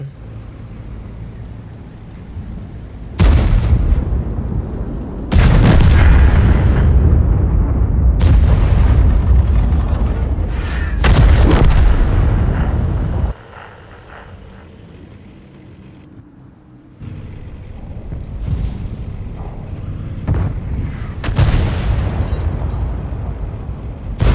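Tank cannon shots in World of Tanks boom out one after another, several heavy loud blasts each followed by a rumbling decay, with a quieter stretch of low engine-like rumble between volleys and no talking.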